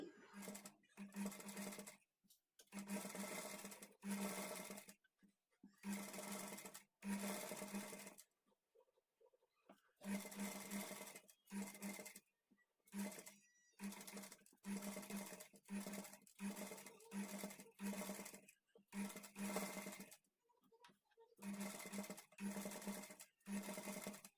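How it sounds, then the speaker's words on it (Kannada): A sewing machine stitches along the edge of invisible thread piping, humming in many steady runs broken by short pauses, fairly quiet and close, with no talk. "ಥ್ರೆಡ್ ಪೈಪಿಂಗ್ ಇರುತ್ತಲ್ಲ ಅದ್ರ ಎಡ್ಜಿಗೆ ಸ್ಟಿಚ್ ಬೀಳೋ ಥರ ಸ್ಟಿಚ್ ಮಾಡ್ಕೊಳ್ಳಿ"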